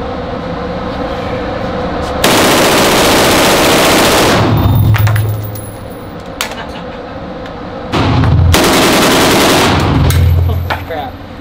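Full-auto machine gun fired at an outdoor range: two long, loud sustained bursts of rapid gunfire, each a few seconds long, up close and ringing out between shots.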